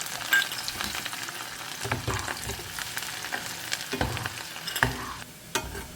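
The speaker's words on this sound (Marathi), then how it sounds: "सो आतां घालता हांव लसूण. हें पळयात आनी ताका मातशें लायट ब्रावन जायसर न्ही फ्राय करून घेवया." Garlic frying in oil in a pan for poha chivda, a continuous close crackling sizzle broken by repeated stirring scrapes, with no voices.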